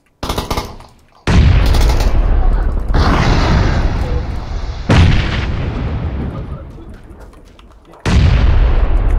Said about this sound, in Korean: 아, 폭탄 내가 내 쪽에 잘못 버렸어.